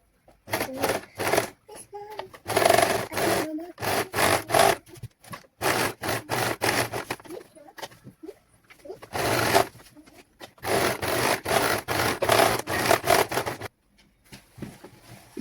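A domestic sewing machine stitches around the curve of a cloth nappy (langot) for a newborn, running in repeated bursts of rapid whirring with short pauses between runs, close and fairly loud, with some talk in between.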